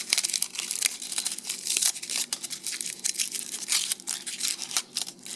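Foil being unwrapped from the packaging of an adrenaline ampoule, a steady close run of crinkling and tearing rustles with no talk.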